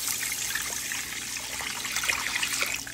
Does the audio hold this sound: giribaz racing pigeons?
no